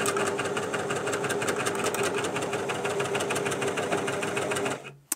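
A Baby Lock coverstitch machine runs steadily on its two-needle narrow cover stitch setting, a loud continuous mechanical whirr that stops abruptly near the end with a small click.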